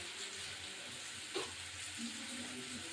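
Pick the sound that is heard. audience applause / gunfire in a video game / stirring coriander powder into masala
stirring coriander powder into masala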